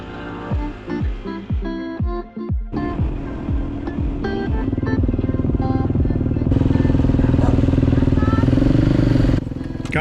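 A 501 motorcycle engine blips through a few quick revs, then settles into a loud, steady running drone as the bike gets underway, close and continuous to the end.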